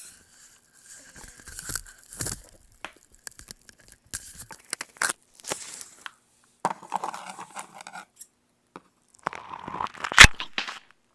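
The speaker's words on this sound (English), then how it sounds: "Chop the slime up." Slime is chopped up, giving irregular bursts of wet crunching, tearing and squelching sounds close to the mic, separated by short quiet gaps.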